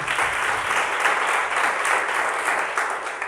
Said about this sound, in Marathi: या एकदा जोरदार टाळ्या वाजवा.